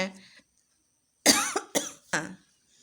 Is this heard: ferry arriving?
no